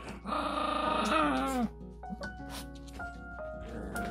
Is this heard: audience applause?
no